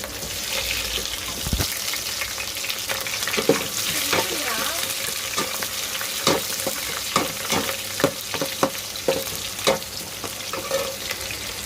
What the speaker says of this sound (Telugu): అలాగే కొంచెం ఉల్లిపాయలు, పచ్చిమిరపకాయలు పక్కన గిన్నెలో పెట్టాం కదా, ఈ నూనెలో బాగా వేయించుకోండి.